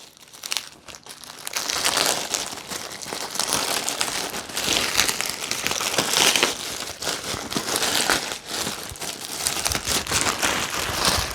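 Plastic packaging around a Xiaomi business backpack is torn and crumpled open by hand, a loud, close, continuous crinkling and ripping that runs steadily for about ten seconds with no talking.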